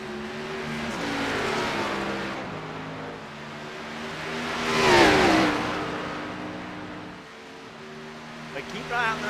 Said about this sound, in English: You can hear him grabbing those downshifts.